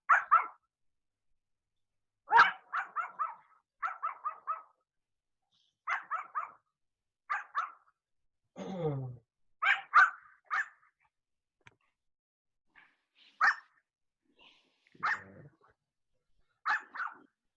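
A single dog barks repeatedly in short bursts and yips, fairly close and clear against a quiet background, with one whimpering whine partway through; nobody speaks.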